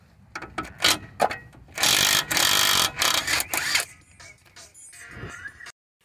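Ratchet with an 18 mm socket loosening a tie rod nut on a 2009–2017 Chevy Equinox during a CV axle job, bursts of loud rapid clicking and grinding strokes, close, then silence.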